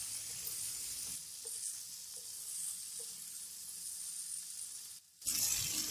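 Green chilies fry with capsicum and potatoes, a soft, steady sizzle with a few faint clinks. Near the end there is a short quiet gap, then a louder, brighter burst of frying.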